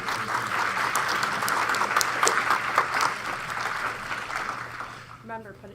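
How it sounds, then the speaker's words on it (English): A crowd at the Global Game Jam final presentations applauds steadily, clapping fading toward the end as a voice begins speaking. "give yourself another round of applause for that."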